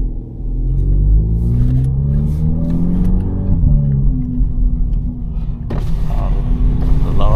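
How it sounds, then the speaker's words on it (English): A VW Polo GTI with a 6-speed DSG and custom downpipe revs and rumbles loudly in an underpass at night, its deep exhaust note rising and falling through a couple of gear changes, with reverberant, enclosed echo throughout. "let's hear what it sounds like underneath there. Remember, this car has a custom downpipe"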